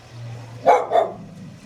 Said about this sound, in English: Oops, there's a dog barking.